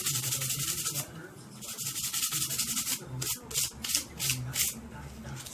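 Sandpaper worked by hand across a wooden coffee table during a shabby chic refinish, close and steady, with rhythmic back-and-forth rasping strokes that swell and fade in a regular pattern and no talking.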